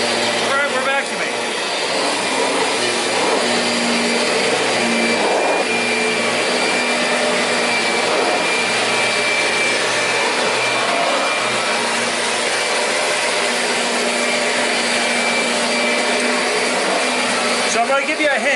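A roughly 18-year-old Kirby Avalir 2 upright vacuum cleaner runs continuously at close range, a loud, steady motor drone and whine that holds evenly throughout with no pauses.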